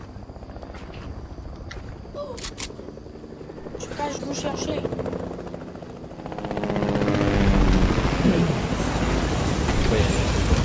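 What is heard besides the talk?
helicopters fighting in Fortnite video game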